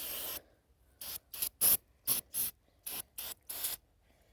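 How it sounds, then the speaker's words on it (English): Brake cleaner sprayed in short hissing bursts into the exhaust of a rebuilt chainsaw that won't start, about nine close, sharp spurts of varying length separated by brief pauses, with no talking. "Spray some brake cleaner in here."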